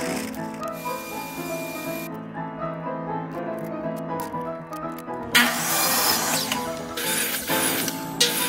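A clamp is tightened on a player piano pedal board, giving a run of ratcheting clicks over a steady low mechanical hum, with a louder noisy rush near the end.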